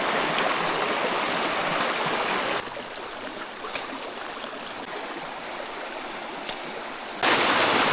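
Creek water rushing over slippery rocks, a steady broadband gush that drops quieter midway then surges back, with a few brief splashes, close and continuous with no voices.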